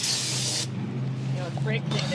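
A can of brake cleaner sprays loudly in one continuous hissing burst, then cuts off, leaving a low hum with faint shuffling and brief movement noises, outdoors in cold weather.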